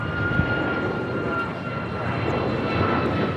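An airplane at LAX airport, a steady broad engine roar with a faint high whine, continuous and moderately loud, heard from a distance without speech over it.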